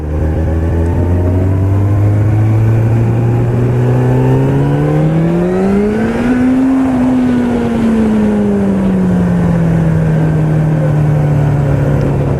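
Suzuki GSX-F 600 sport motorcycle accelerating up through the gears, a loud, close engine whine climbing in pitch, dropping briefly at a gear change, then holding a steady high drone, with no one speaking.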